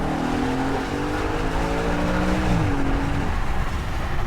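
Audi RS5 Coupe with a high-revving 8,250 rpm V8 in dynamic mode, loud and close, its rising harmonic whine climbing through the revs, then dropping away abruptly after a shift or lift near the end.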